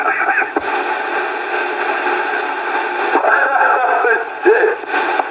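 Off-frequency CB radio transmission comes through loud and continuous, a distorted, garbled voice-like signal with shifting tones, like a badly tuned radio.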